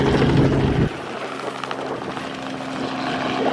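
A helicopter's loud, steady rotor and engine noise at a track event blasting sand about; it is close and dominant at first, then eases off slightly and holds as a continuous drone.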